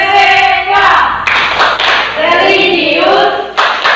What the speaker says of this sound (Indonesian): Sama-sama tepuk PPK.